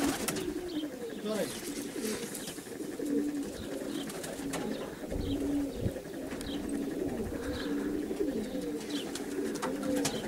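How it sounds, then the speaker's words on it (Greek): Pigeons cooing steadily in a flock, a continuous rolling murmur of overlapping coos with scattered flutters and faint chirps across the whole stretch, moderately loud and close. "Όμορφα περιστέρια."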